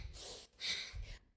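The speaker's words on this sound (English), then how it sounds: "We're gonna breathe in and out through the nose, and the breath is gonna be audible." Fast, audible breathing through the nose during a breathwork exercise: two or three quick, close, airy inhale-and-exhale bursts in a steady rhythm, with no talking.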